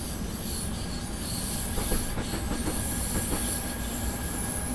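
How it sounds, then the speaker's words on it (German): A DB Class 423 S-Bahn electric multiple unit in Train Simulator rounds a curve through a switch with a steady, piercing wheel squeal. Rolling rail noise and faint clicks sit beneath it at a constant level throughout. "Das Quietschen in der Kurve ist vor allem sehr schön in der Weiche."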